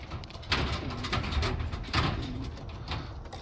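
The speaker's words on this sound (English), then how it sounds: "A lot of these birds go back to the Milkman." Racing pigeons coo repeatedly inside a loft, soft rounded calls recurring in a steady rhythm at close range over a dull room hum, with a few brief knocks and rustles.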